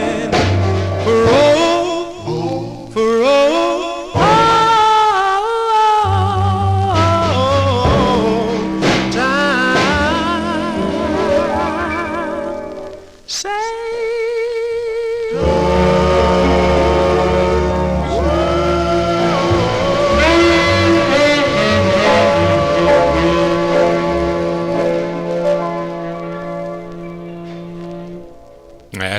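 A 1958 doo-wop record plays loud and steady, with sung vocals over a full band backing and a brief dip partway through.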